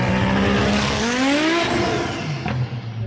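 A 1200-horsepower Audi RS3 pulls away and accelerates hard, its loud engine note rising in pitch through the revs, then easing as it moves off.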